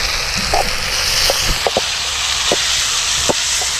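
Chopped tomatoes sauté in a hot pan for chicken kari dosai, giving a steady sizzling hiss broken by scattered small pops and crackles throughout.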